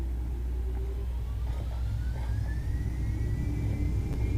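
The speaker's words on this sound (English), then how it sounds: "Love those engine sounds" Aircraft engines run up to full power for takeoff in Microsoft Flight Simulator 2020, heard from a ground spotter position as a steady, continuous rumbling roar with a rising whine, with no talk.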